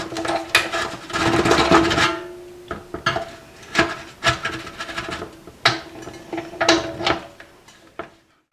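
A hand-cranked expanding tool spreads the flange on a modified hot tent stove, its metal fingers pushing outward. Repeated ratcheting clicks and grinding metal scrapes come in uneven bursts, loud and close, with a faint ringing hum beneath.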